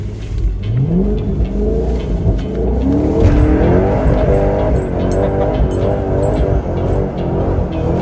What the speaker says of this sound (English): it's gonna be a simple burnout